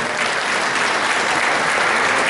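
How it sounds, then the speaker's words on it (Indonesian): Dense, steady applause from an audience greeting a product launch at a business training event, loud and continuous throughout with no pauses. "tepuk tangan buat produk kita yang akan launching"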